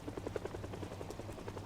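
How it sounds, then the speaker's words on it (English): Helicopter rotor in a video game (World War Z style survival game), a steady rhythmic chopping pulse at moderate distance, fairly faint and continuous with no talking. "there's a helicopter going on"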